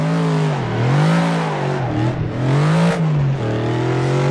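A Ford Mustang revs hard in a racing video game while drifting, its loud engine note rising and falling continuously for a few seconds, up close with no voices.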